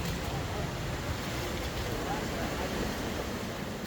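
Creek water near an abandoned copper mine in Index, Washington rushes in a steady, broadband wash with no breaks, heard from close by.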